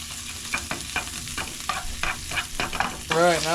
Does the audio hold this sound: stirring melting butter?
yes